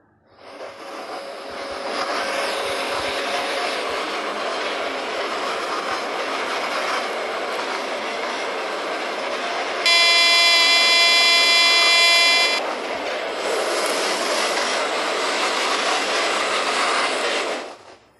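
Indian Train Simulator game train audio: a steady rolling rumble of wheels on track for most of the run, with a loud buzzing horn-like tone sounding for a few seconds midway.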